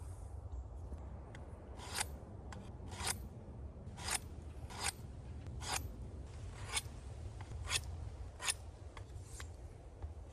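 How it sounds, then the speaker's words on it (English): A small workshop sharpener working a blade, heard as a run of regular, crisp scraping strokes about once a second over a low background rumble, close and fairly quiet. "We're gonna do some sharpening before I start. It's my little workshop sharpener."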